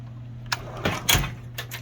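A drawer on a US General tool cart slides open in a few quick, faint metallic rolls and clunks, heard close over a low steady hum.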